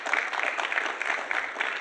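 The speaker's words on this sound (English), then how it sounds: "I think we owe a round of applause to all 8 of the presenters tonight" Audience at a start-up showcase summit applauds the presenters with steady, dense clapping that fills the whole moment, with no voices over it.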